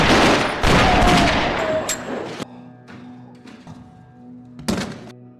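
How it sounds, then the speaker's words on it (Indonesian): Bursts of gunfire crack and thud in a gunfight scene from an action film. A dense, loud volley opens, then gives way to sparser single shots and impacts over a low sustained tone. "Nick dan Billy pun saling beradu tembak"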